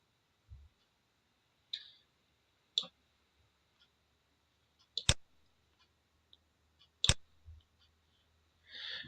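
Computer mouse clicking in a quiet room, a handful of sharp isolated clicks spaced a second or two apart, faint and close with near silence between them.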